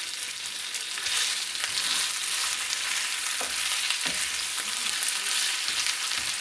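Meat browning in a pan for posole, a steady loud sizzle and crackle of frying with a few faint stirring knocks, continuous and close, with no voices.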